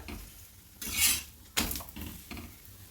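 A cabbage paratha is turned and roasted on a pan, giving soft scraping and clattering of utensil against metal with a couple of sharper knocks over quiet background sizzle.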